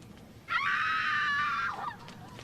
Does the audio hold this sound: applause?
no